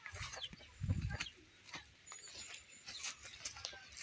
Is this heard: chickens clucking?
yes